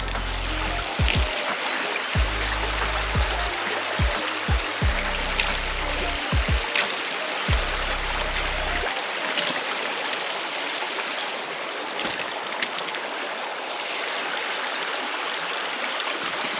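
A small stream flows with a steady close babble and trickle, joined by low thumps and knocks in the first half, and a person talks intermittently.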